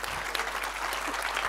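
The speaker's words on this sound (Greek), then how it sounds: "Παλαμάκια παρακαλώ για την εισαγωγή." Applause from a conference audience at a shipping executives panel forum, dense and steady clapping filling the whole moment at close range without speech.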